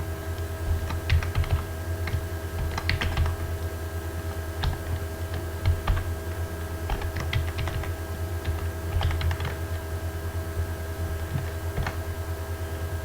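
Steady bursts of keystrokes on a computer keyboard as PHP code is typed, close and clear, with short pauses between clusters of taps and a faint background hum.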